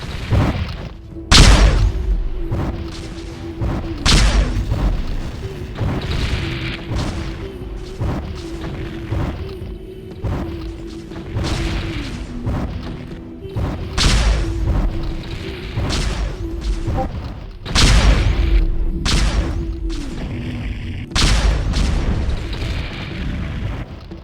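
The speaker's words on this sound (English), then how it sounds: "You should see the explosions diminish" Heavy booming explosions in the video game Aquaterra Mech Wars go off repeatedly and irregularly, loud and close, with rumbling bursts overlapping a continuous low roar of battle.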